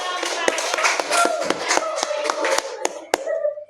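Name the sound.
classroom applause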